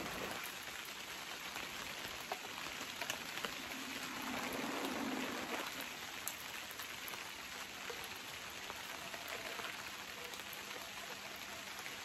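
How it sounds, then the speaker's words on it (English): Steady rain patters outdoors onto a tent during an oil painting session in the countryside, a dense, even hiss of drops that stays constant throughout, with no talking. "that wonderful country rain sound"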